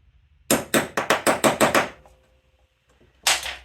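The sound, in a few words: small hammer tapping on a Suzuki GT185 carburetor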